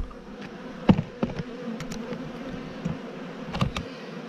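Honey bees buzz around an open hive during an August beekeeping inspection of brood frames: a steady low drone with a few louder, closer passes and faint clicks, and no talking.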